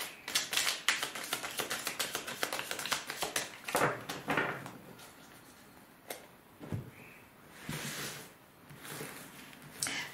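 Tarot cards are drawn and laid out on a table with a quick run of crisp flicks and taps, which thin into sparser, softer slaps and shuffles. The sound is close and quiet, with no talking.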